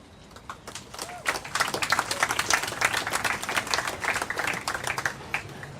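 An audience at a poetry reading claps, starting with scattered hand claps that quickly build into dense, steady applause that carries on to the end.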